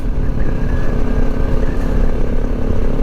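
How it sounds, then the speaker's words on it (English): A big Honda Africa Twin adventure motorcycle rides past on a desert track in the Simpson Desert, its engine loud and steady throughout, with a slight rise and fall as it passes close by. "Comes another adventure bike."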